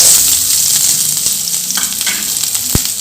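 Two roughly cut onions drop into hot oil in a pan and fry with a loud, steady sizzle, one sharp clatter near the end, no voices.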